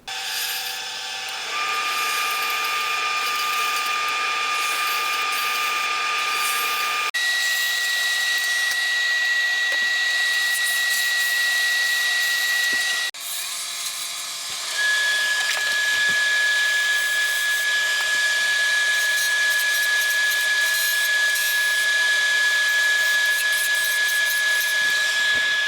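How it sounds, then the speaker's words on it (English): Wood lathe spinning steadily as a square nose scraper cuts into and flattens a turned box lid, giving a continuous loud whirring hum with a sustained whine that shifts pitch twice as the cut changes. "I'll take the square nose scraper and cut in and flatten out the lid"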